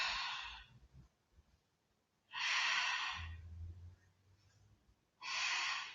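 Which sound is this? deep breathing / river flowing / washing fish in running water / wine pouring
deep breathing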